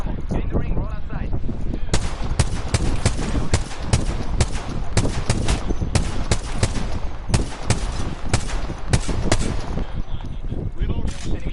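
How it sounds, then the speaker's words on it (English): Gunfire in a video game: rapid bursts of shots cracking out in repeated volleys, loud and close, over a constant rumbling battle noise with occasional game voices. "Oh, they're shooting at me."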